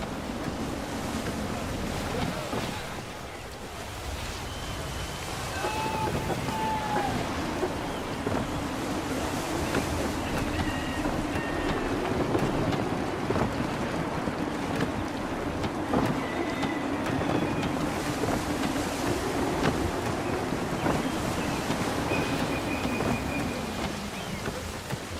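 Wind gusts and surf wash steadily around a sailing ship in Assassin's Creed III, a constant rushing roar of waves and breeze with creaking timbers, occasional faint calls and a few brief whistling tones over it.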